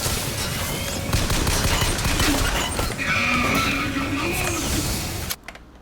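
Gunfire in Bioshock Infinite played in VR, a dense clatter of shots and action noise that runs loud and continuous over a busy game backdrop before cutting off abruptly near the end.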